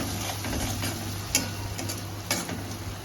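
Ginger paste and ground cinnamon sauté in a pan for a bhetki fish curry, a low continuous sizzle with a few sharp spatula taps and scrapes as the paste is stirred, close and without speech.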